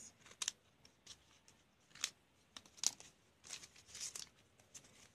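Scissors snip through a homemade plastic blind bag in several short, crisp cuts spaced across the moment, with light crinkling of the plastic between them; close and fairly quiet, no talking.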